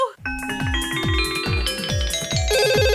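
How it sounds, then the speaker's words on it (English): A telephone rings in a melodic, ringtone-like pattern, with repeated bright chiming notes pulsing steadily for a few seconds, close and clear. "Georg, the phone is for you"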